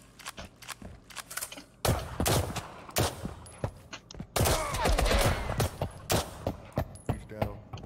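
Mosin rifle shots and rapid gunfire in a video game, a loud burst of repeated sharp cracks and heavy volleys in the middle, with footsteps and quieter movement around them.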